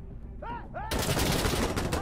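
Pistol gunfire in the tactical shooter Insurgency Sandstorm bursts in loud and sustained after a short spoken phrase, a dense crackle of rapid shots filling the rest of the moment.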